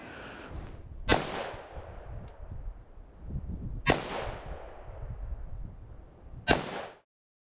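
Three sharp, loud pistol shots from a Smith & Wesson M&P 5.7 fired outdoors, spaced about three seconds apart, each with a crisp crack and a short decaying echo, and no talking.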